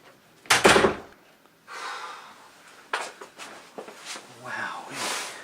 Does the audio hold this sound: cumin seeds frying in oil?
no